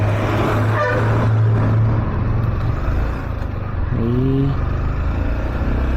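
A vehicle with a Pondicherry registration drives past in street traffic, its engine and road noise loud and close throughout, with brief tonal, horn-like notes partway through.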